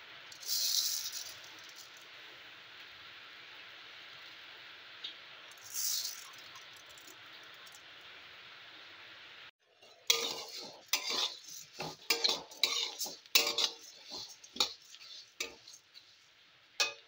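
Raw rice tipped into a hot, dry wok, a quick dry rattle, then a quiet pause before a dense stretch of scraping, clattering stirring with a spatula, busy and close.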